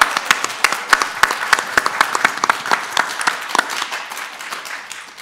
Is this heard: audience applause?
yes